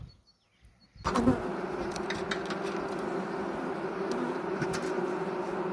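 After a brief quiet start, a steady, dense drone of honeybees swarming around hives in an apiary on a spring day fills the air, constant and close, with no talk.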